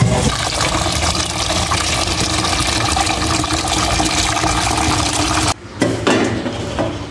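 Tap water running hard into a cooking pot in a home kitchen, a loud continuous gush that cuts off briefly near the end, then resumes with splashing.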